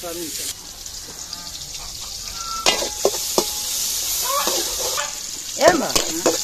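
Garlic dropped into hot oil in a home kitchen while cooking pangas fish and pui shak, giving a steady close sizzle with stirring clatter and a few sharp scrapes throughout.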